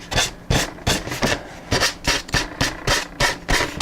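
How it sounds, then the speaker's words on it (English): Sandpaper rubbed back and forth along the edge of a fiberglassed model aircraft part to trim it, giving about a dozen evenly spaced, loud rasping strokes close to the microphone. "I just rub it on the edge until it cuts. You see, it's cutting."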